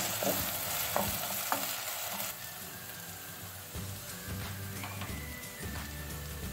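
Tomato paste fries in oil in a pot while a spoon stirs it, a steady close sizzle broken by repeated scraping stir strokes, with no voices.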